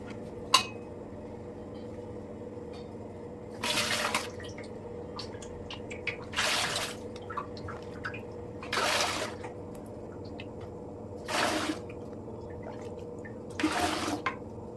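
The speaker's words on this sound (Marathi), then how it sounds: "आता फायनली मी सगळ्यात बारीक चाळणीने गाळणार आहे." Wheat extract strained through a fine sieve into a large pot, with soft dripping and trickling over low background hum, broken by about five bursts of louder pouring or splashing at regular intervals.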